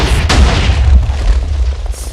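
Minecraft TNT cannon fires with a loud, booming blast followed by rumbling explosions and crackling debris over about two seconds, heavy and close, with no talking.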